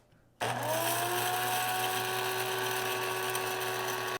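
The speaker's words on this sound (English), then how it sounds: "I keep them whole, so I'm gonna grind it with my coffee grinder." A coffee grinder grinding whole cardamom pods whirs loudly and steadily after a short quiet start, its motor pitch holding constant with a gritty grinding edge throughout.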